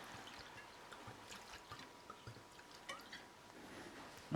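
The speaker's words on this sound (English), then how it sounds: "And on top of that, some white wine." White wine poured into a pot of mussels, a soft continuous splashing trickle with light drips, faint and steady throughout.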